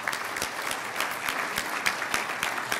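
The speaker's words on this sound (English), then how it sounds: "Let's give them a round of applause." A crowd at a business hall of fame ceremony applauding steadily, dense clapping filling the whole stretch at an even, moderately loud level with no voices standing out.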